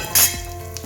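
A spoon scrapes and clinks against a pan as masala with mace and poppy seeds is roasted for a Goan fish curry, giving one brief bright clink over a soft, steady frying hiss.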